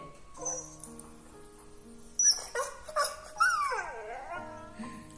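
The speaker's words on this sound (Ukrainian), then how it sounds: "Та це ж плаче цуценятко." A puppy whimpers and yips in a series of high, wavering cries, close by, after a quieter stretch with faint tonal background.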